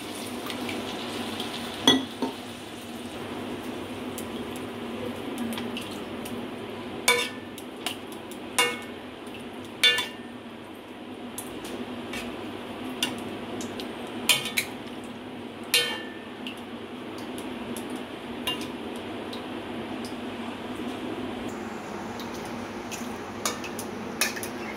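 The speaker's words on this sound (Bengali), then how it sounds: "ঝোলের মধ্যে বড়া পটল আলুগুলোকে ভালো করে মিশিয়ে নিচ্ছি।" Lentil fritters, pointed gourd and potato stirred in a pan of curry, with scattered spoon clinks and scrapes against the metal over a steady low simmering hiss, quiet and unhurried, with no voices.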